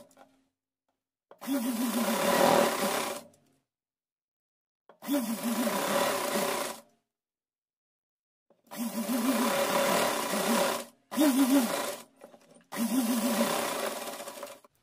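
A sewing machine stitches cotton fabric in five separate bursts of rapid mechanical whirring, each lasting one to two seconds with silent pauses between, close and fairly loud.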